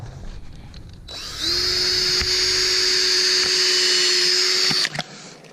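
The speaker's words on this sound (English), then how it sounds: "pre-drill the holes with an old drill bit for your ice anchors" An old drill bit bores a pilot hole into lake ice for an ice anchor, a steady high-pitched whine running about three and a half seconds at close range before cutting off abruptly.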